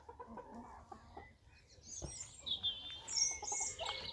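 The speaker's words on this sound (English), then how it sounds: "Here's one of the new hens, and there's another one of the new hens." Rescued ex-battery hens settling down for supper, giving soft clucks and higher chirping calls that grow busier in the second half against a quiet outdoor background.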